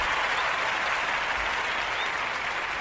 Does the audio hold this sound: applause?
yes